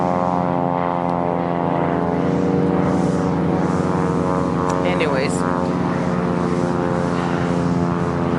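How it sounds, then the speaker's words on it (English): Propeller aircraft flying low overhead near Atatürk Airport in Istanbul, a steady loud engine drone with harmonic hum filling the whole clip, with a person talking briefly over it. "Oh, there is a plane. There are two planes, and they're so close."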